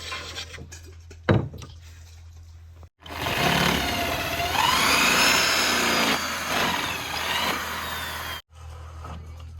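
A power drill bores into a wooden furniture joint, its motor whining loudly for several seconds with the pitch rising and straining, set between quieter stretches of low background hum and a sharp knock.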